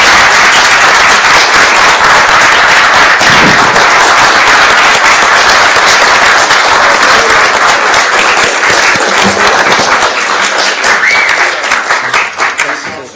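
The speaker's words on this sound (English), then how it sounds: "I think a round of applause for Stuart for all the work he's done over t" Loud, sustained applause from a full council meeting, many hands clapping steadily at close range before thinning out into scattered claps at the end.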